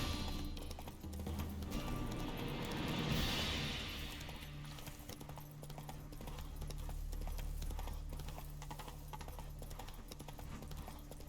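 Horse hooves clip-clop at a steady gallop in the video game The Witcher 3: Wild Hunt, a quiet, even rhythm under ambient game sound that swells and fades slightly over time.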